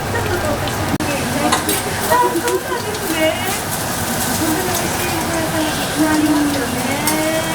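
An egg fries over a strong flame, a dense, even sizzle running throughout beneath a conversation between people nearby.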